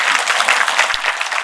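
Soft, steady applause from an audience at a Kanyadaan Abhiyaan charity gathering in India, a dense patter of many hands clapping gently and continuously throughout.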